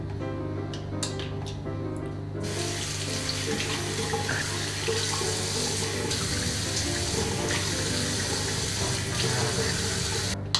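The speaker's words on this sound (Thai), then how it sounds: "ดี๋ยวผมจะล้างหน้าก่อนยังไม่ได้ล้าง" Tap water runs steadily into a sink during face washing in a bathroom, a close, continuous splashing rush that holds for the whole stretch with no talking.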